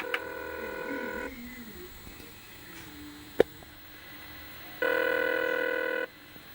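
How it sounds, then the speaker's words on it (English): A Commodore VIC-20 computer plays an electronic phone-like ring, two bursts of steady stacked tones separated by a quiet gap, with a sharp click in between and no talking. "my VIC 20, the scene here, is going to make a ringing noise like a phone"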